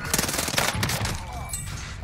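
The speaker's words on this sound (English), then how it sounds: "What'd they do to the PPSH? Because this feels like the best SMG I've used all day." A PPSh submachine gun rattles off rapid automatic bursts in Call of Duty Warzone on Rebirth Island, loud and close, the dense fire running through the whole short stretch with game ambience behind.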